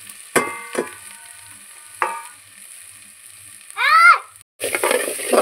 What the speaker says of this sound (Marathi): बघा हे मिश्रण छानपैकी तळून घ्यायचं आपल्याला